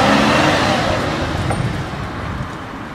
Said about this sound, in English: Just give it more gas.